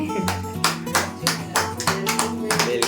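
Several people at home clap in an uneven rhythm to welcome a newborn baby, with music playing and brief voices underneath.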